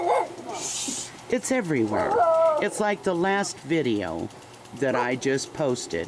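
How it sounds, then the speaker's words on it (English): A pet dog barks and yips in short bursts, with some whimpering, close by. Someone talks over the barks and between them. "That's my dog."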